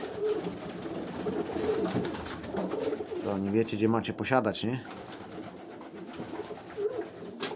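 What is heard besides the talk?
pigeons cooing in their loft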